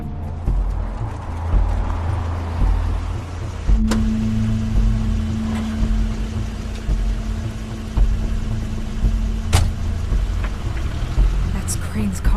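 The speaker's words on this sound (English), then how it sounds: "That's Crane's car." A car idling in The Wolf Among Us video game: a steady low engine hum running throughout, with a faint tonal whine joining midway and occasional brief clicks over continuous background noise.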